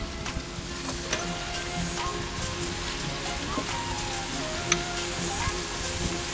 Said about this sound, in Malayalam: നമുക്കിനി ഇതൊന്ന് കുറച്ച് തേങ്ങാപ്പാൽ ഒഴിച്ചു കൊടുക്കാം ഇതിലോട്ട്.